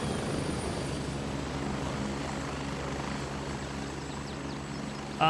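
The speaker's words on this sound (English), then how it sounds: "let's get that helicopter to go away here" Helicopter in the military shooter game Gray Zone Warfare, a steady loud rotor thump and engine drone holding throughout, close and continuous with no talk.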